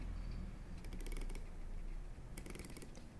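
Two quick runs of tiny metallic clicks as a dive watch bezel is rotated, close up and faint, separated by a short pause.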